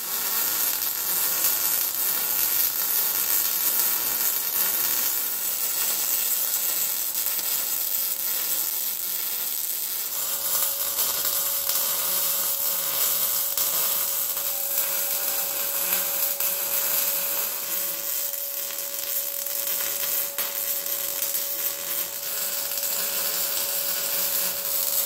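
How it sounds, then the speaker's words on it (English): Welding a driveshaft loop into a roll cage chassis produces a continuous crackling, hissing sizzle, steady and close, with a faint tonal hum joining partway through. "So I'm going to go ahead now and get that all welded in."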